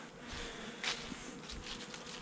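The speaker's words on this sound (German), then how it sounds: "alle Bienen hier aus der Kiste rausploppen und dann auch wieder, ihr seht ja, die fliegen direkt hier in das Flugloch zurück" Honeybees stream out of a wooden hive box and fly straight back into the entrance during a November hive check, a dense steady buzzing swarm close by, with individual bees zipping past.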